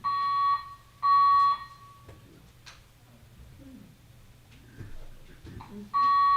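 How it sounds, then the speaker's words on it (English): Fire alarm sounding in a county government building during a COVID-19 briefing, with loud repeated electronic tone bursts separated by gaps, while faint voices and room noise carry on between blasts. "someone pull the fire alarm"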